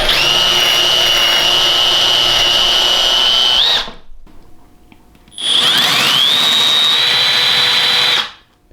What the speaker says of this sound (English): So we've set the depth of our router bit in our trim router